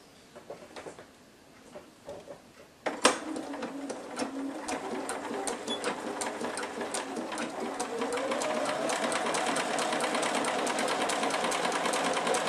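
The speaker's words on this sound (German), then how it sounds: "So, dann schließen wir jetzt noch die letzte Naht." A sewing machine stitches the last seam of a jersey scarf, starting after a sharp click with quiet fabric handling before it, then running in a steady, rapid rattle that grows louder and continues to the end.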